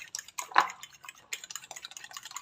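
Egg yolks being stirred in a bowl, light clinking and tapping of a utensil against the bowl with soft wet mixing sounds, close and quiet.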